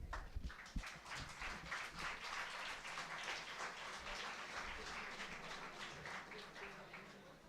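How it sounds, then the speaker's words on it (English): An audience at a science camp event claps steadily in a dense, even wash of applause that holds at a moderate level throughout and slowly thins near the end. "A round of applause, everybody."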